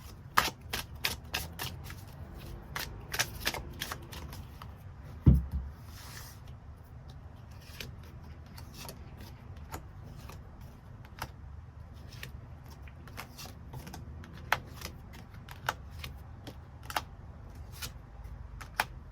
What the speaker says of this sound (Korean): 추가 카드 뽑아보도록 하겠습니다.